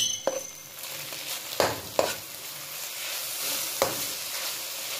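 A banana dish with vinegar, garlic and chili being stirred in a hot pan, steady sizzling and frying underneath, broken by a few sharp scrapes and knocks of the utensil against the pan.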